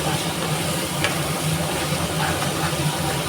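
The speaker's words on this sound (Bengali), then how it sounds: "ভালো করে কষিয়ে নেব মশলাটা" Spiced masala for a Bengali curry frying and being stirred in a pan, giving a steady close sizzling hiss with faint scraping throughout.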